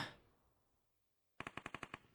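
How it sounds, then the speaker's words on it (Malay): A UMP submachine gun fires a rapid burst of about seven evenly spaced shots in a video game match, sharp and close, after a near-silent pause. "Tembakan berterusan kepada Ayoy"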